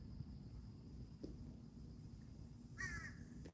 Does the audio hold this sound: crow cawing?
yes